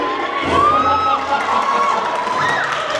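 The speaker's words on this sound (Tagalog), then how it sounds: "Hoy, palakpak mo yan" Audience at a Gwiyomi cuteness contest cheers and shouts, with children's voices whooping over scattered clapping, loud and close throughout.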